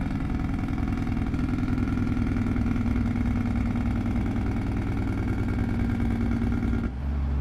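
A truck Jake brake in a trucking video game mod with a new N14 engine sound drones steadily and loudly for several seconds, a deep continuous engine roar that cuts off abruptly near the end.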